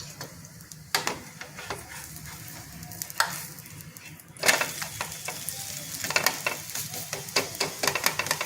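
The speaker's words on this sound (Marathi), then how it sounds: "आता हे दुसऱ्या पण बाजूने छान भाजून घेऊ खरपूस" Thalipeeth flatbread frying in a little oil on a pan, a steady close sizzle with occasional sharper crackles and scraping taps, continuous throughout without talk.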